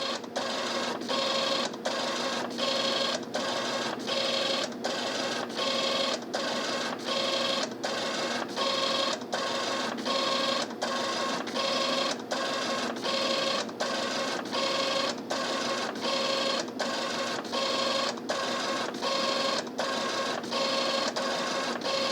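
An HP ThinkJet 2225A inkjet printer runs out an oscilloscope printout, its print head sweeping back and forth in a steady, whirring rhythm with a short pause every second or so, repeating evenly throughout.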